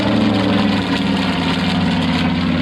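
A TBM Avenger torpedo bomber's big radial engine runs loud and steady at an air fair, a dense continuous roar with a throbbing low rumble and no pauses.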